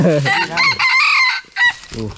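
A farm chicken lets out loud, close clucks and squawks in a few uneven bursts with short pauses between, heard on its own with no talking.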